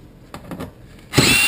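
A power drill fitted with a Torx bit drives the bracket bolts on an IBC tote, a loud sustained whir that starts abruptly near the end after a few faint bumps and handling noises.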